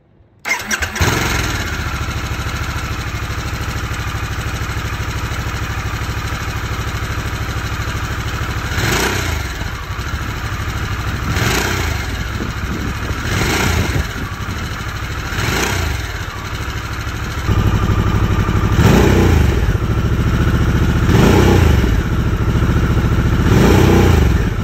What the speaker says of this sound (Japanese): ではエンジンをかけてマフラー音を聞いてみましょう。